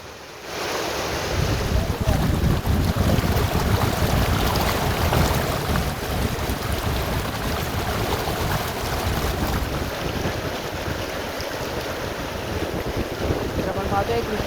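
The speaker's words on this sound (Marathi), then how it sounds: "नदी दुथडी भरून वाहतीये" The flooded Krishna River at Sangli flows full to its banks, a broad, constant rushing of water mixed with gusty wind buffeting the microphone, steady and loud for the whole stretch.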